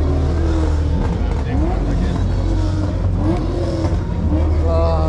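A Ferrari 488 Italia engine rumbles and revs at a busy car show, loud and close, with crowd noise and people talking over it.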